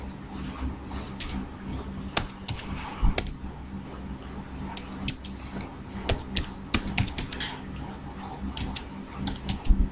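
Code being typed on a computer keyboard, with irregular bursts of close key clicks and occasional louder taps over a low background hum, with no voices.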